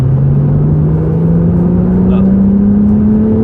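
A Porsche 911 of the 992 generation accelerates at full throttle in third gear on a road, heard from inside the car. Loud, steady engine drone rises smoothly in pitch throughout, with one brief spoken word from a person on board.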